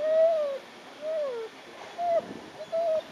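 Small bird giving repeated short high peeping calls, four separate notes spaced roughly evenly over a few seconds, faint against a quiet indoor background.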